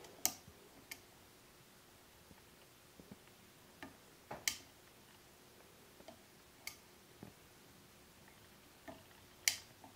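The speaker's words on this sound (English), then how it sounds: "it does have that little interesting clicking sound to it" The control knob of a 1985 Casablanca Delta II ceiling fan gives sparse, sharp clicks at irregular intervals, faint and close in a quiet room with no speech.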